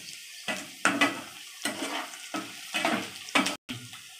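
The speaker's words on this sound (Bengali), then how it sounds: "এই দেখেন বন্ধুরা, 2টো শুকনো লঙ্কা দিয়ে দিচ্ছি।" Two dried red chillies frying in a pan for a fish-roe chochori with okra and potato, heard as a steady sizzle broken by repeated bursts of stirring and scraping, close and fairly loud with no voices.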